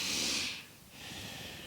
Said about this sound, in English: long, slow, deep breathing